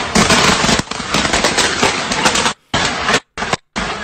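Fireworks spraying across a city block in French street footage, a dense, loud crackling barrage of rapid pops that breaks into short stuttering bursts separated by brief gaps near the end.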